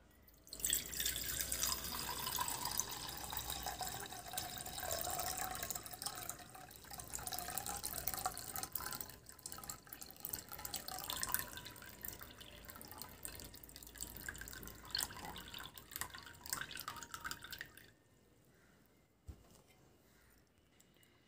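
Soaking water drained from soaked rice into a bowl, a steady close trickle and splash that runs for a long stretch, then stops, leaving faint drips.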